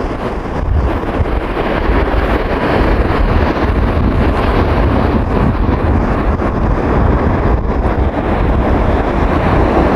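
Sea waves and strong wind at a beach, a dense continuous roar with heavy wind buffeting the microphone, loud and unbroken throughout with no talking.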